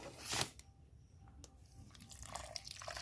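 Water pours onto packaged semolina in a bowl to soak, a short close splash followed by quieter dribbles and wet settling sounds, faint overall.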